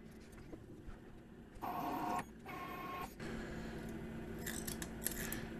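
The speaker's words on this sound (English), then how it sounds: "you can also hear once the cutter reaches the thread relief, and then immediately you let go of the spindle drive" Lathe cutter reaching the thread relief on a machined part, followed by the VFD-driven spindle stopping almost instantly, heard as a steady machining whine and hum with brief louder cutting bursts, close and alone.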